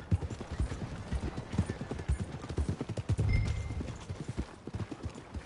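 Horse hooves clip-clop steadily in the game Red Dead Redemption 2, a rhythmic run of close, distinct hoof strikes on ground that slows and fades toward the end, with little else around.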